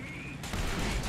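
Tank cannon fire in the War Thunder video game, a single heavy blast bursting in partway through and rumbling on loudly as a low, sustained boom, with faint game noise underneath.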